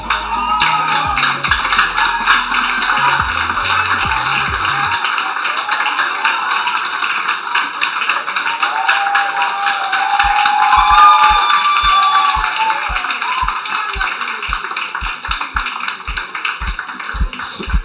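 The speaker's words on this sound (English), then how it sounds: "can you guys clap for them again?" An audience at a hackathon awards event in Lagos claps for a winning team. There are steady scattered claps and taps over a continuous crowd murmur, growing into a fuller round of applause.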